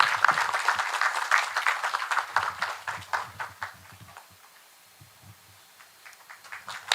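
Audience at a Korean temple-food international symposium claps to welcome a master monk, distinct individual claps at first that thin out and fade to a sparse patter.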